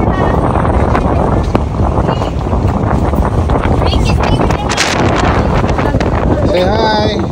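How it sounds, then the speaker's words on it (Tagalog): Strong coastal wind at Kapurpurawan in Pagudpud, loud buffeting gusts roaring across the microphone continuously, with a voice speaking briefly beneath the rush. "And eto na nga, sobrang hangin."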